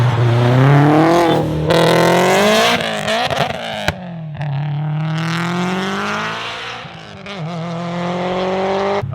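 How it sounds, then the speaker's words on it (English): A Subaru STI engine revs hard and loud during a burnout attempt with traction control on, climbing and falling in pitch, with a rough, sustained roar close by throughout. "Let's do a burnout, or a donut."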